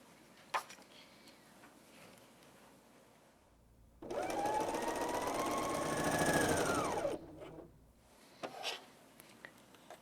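A BERNINA L 660 overlocker sews a 3-thread rolled hem in one steady, loud whirring run of about three seconds, with quiet handling sounds before and after.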